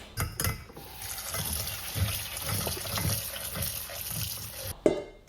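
Tap water runs steadily over diced onions in a kitchen sink, a continuous splashing wash with small clatters, close and fairly loud, stopping abruptly near the end.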